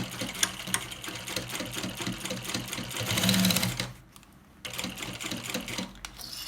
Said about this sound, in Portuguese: Eu vou costurar aqui o meu pra vocês verem, tá?